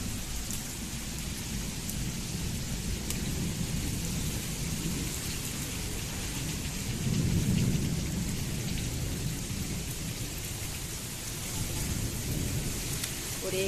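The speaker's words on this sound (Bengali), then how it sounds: "ওরে বাবা কত সুন্দর হাওয়া হচ্ছে, দেখো ঝড় উঠে গেছে" A thunderstorm with heavy rain and gusting wind beside a mango tree, a dense roaring wash of rain and wind with a low rumble of thunder swelling midway, loud and continuous with no voices.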